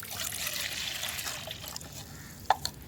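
Plain water trickles and pours into a container of three-day fermented rice water, a soft steady liquid stream that thins out, ending with a couple of small drips or splashes.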